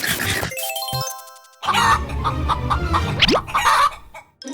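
Minecraft chickens clucking in the video game: short clucks and a rising tonal chime stand out over a busy game soundscape, with a brief quiet gap, fairly loud and close.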